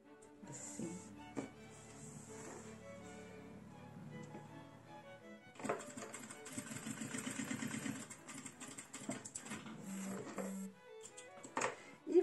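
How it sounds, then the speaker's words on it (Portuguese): A sewing machine stitches a fabric mug rug, its quiet motor whirring in a steady run, pausing briefly, then a longer continuous stretch with faint hissing and small clicks. "E vamos costurando até lá em cima."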